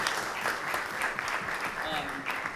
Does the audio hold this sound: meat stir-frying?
no